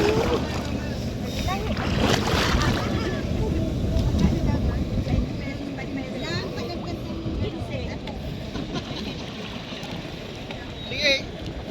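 A small boat putters away on the sea, its steady engine drone mixed with wind and water noise as people talk and call out nearby.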